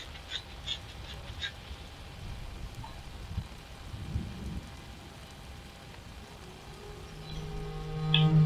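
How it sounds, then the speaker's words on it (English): Steady rainfall ambience in the game Dwarf Fortress 1.1, a soft, even wash of patter that stays faint and continuous with no voices. "it has started raining"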